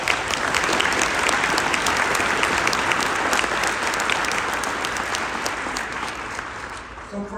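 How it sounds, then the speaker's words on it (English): A conference audience gives a round of applause, a dense, steady wash of many hands clapping that holds for several seconds before tapering off at the end. "if we could just give our previous speakers a quick round of applause"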